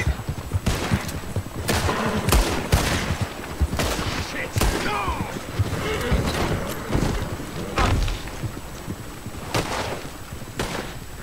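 Repeated loud gunshots crack and boom in a shootout in the Red Dead Redemption 2 video game, coming in irregular clusters over a busy, noisy background.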